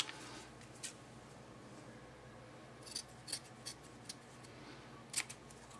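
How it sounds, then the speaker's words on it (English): Faint snips of scissors cutting a slice of Japanese cotton for a vape coil wick, a few quick crisp cuts in small clusters over quiet background noise. "I'm going to grab some of this Japanese cotton I've got here, and we're going to cut off a slice of it"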